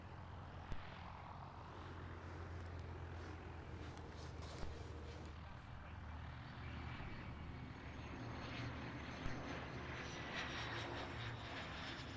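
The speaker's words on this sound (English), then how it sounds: "that's a Cessna Citation that's just landed there" A Cessna Citation business jet landing at a small regional airport, heard as a steady distant engine roar that swells slightly toward the end, with no voices over it.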